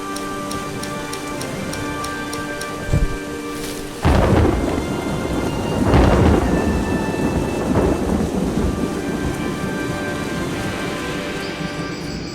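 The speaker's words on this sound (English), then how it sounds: "I was hoping it'd stay raining" Thunder cracks and rolls through a steady downpour of rain in the video game Eschalon: Book III, with a sudden loud clap and long rumbling continuing over soft game tones.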